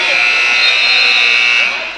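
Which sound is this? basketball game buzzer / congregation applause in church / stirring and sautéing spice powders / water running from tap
basketball game buzzer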